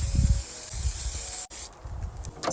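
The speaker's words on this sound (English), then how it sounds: "now I'm going to try and spray paint" Spray paint hisses onto breastplate pieces laid over a newspaper-covered mannequin: a loud, close, continuous spray that cuts off sharply, then short softer bursts follow.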